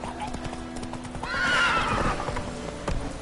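Roach, the horse in The Witcher 3, lets out a loud, close whinny amid clopping hoof steps and a low ambient hum.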